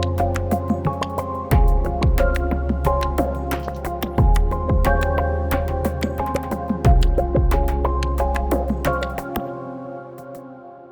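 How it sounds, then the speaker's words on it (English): A Hydra synthesizer pattern runs through Logic's external instrument plugin: a deep sustained bass line shifting every couple of seconds under a rhythmic layer of plucky, bell-like chord stabs, loud and steady with no talking. "which is accessing a sound from my Hydra synth"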